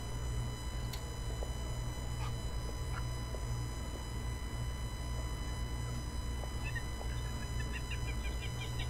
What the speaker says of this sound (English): Come to find out it was a bird.